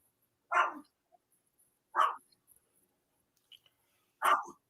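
A dog gives three separate sharp barks, spaced about two seconds apart, fairly close and moderately loud against near silence, with faint small noises in between.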